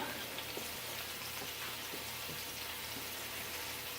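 Minced garlic sizzles in heated olive oil for a chili, a steady soft crackling hiss with scattered pops, fairly quiet and close, with no talking.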